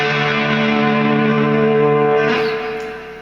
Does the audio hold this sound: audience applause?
no